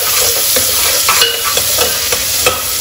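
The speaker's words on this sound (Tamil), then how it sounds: "வெங்காயம் வந்து நல்லா வதங்கட்டும்" Onions sautéing in a pan for mutton curry and ghee rice, a loud, close continuous sizzle with regular stirring scrapes and clicks throughout.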